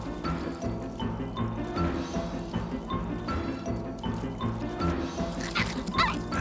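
Dogs barking and yipping in short bursts, some whimpering, over a busy background with a low hum.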